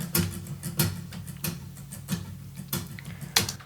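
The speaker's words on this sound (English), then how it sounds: "Kind of this little these rhythmic guitar rakes." Soft, rhythmic percussive scrapes and muted strums on an acoustic guitar repeat in a steady pattern, quiet and close with no voices.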